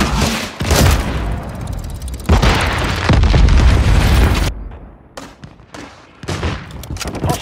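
Cruise missile strikes in Call of Duty Modern Warfare 3 on the Invasion map, with loud booming blasts and bursts of gunfire that roll on continuously before dropping to scattered, fainter combat noise.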